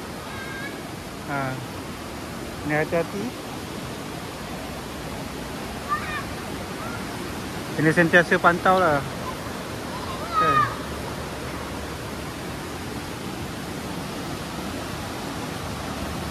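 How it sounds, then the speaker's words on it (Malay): Fast-flowing river rapids at an eco-tourism campsite make a steady, broad rushing roar through the whole stretch, while someone speaks intermittently over the water. "So air dia boleh tahan juga, deras juga."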